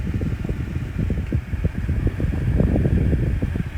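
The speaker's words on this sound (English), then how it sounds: "It's just a 7-inch oscillating fan." A vintage 7-inch amber oscillating desk fan running, a steady close whirring drone with a low fluttering rumble from the blades, loud and constant with no talk.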